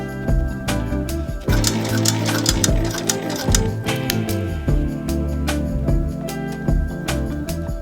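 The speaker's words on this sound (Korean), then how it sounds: "그리고 바느질, 마감." A sewing machine runs in rapid bursts stitching the seams and piping of a handmade tote bag with lining, loud and close, with short pauses and restarts between runs.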